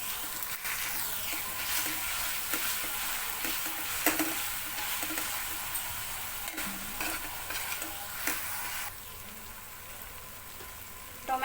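Tomatoes frying for paneer bhurji give a soft, steady sizzle, broken by repeated scraping and tapping of a spoon stirring and mashing them in the pan, fairly quiet and close.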